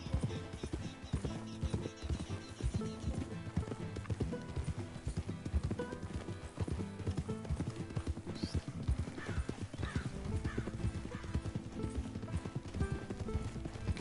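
Horse hooves clip-clopping steadily in Red Dead Redemption 2, a continuous rhythmic trot running under a dense, loud game soundtrack with a few faint whinny-like sounds.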